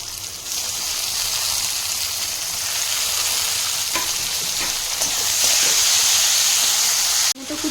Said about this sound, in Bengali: দিয়ে দিচ্ছি আমি টমেটো কুচি।